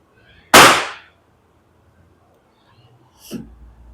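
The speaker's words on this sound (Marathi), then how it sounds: "इथं फटाके फोडणं चालू आहे म्हणून" Diwali firecrackers burst outside a home kitchen during festive cooking: one loud, sharp bang followed by a long quiet gap, then a second, fainter crack.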